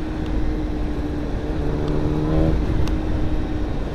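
A ten-year-old motorcycle with a quick shifter is ridden at speed. A steady engine drone sits under heavy wind rush, with a slight rise in pitch near the middle.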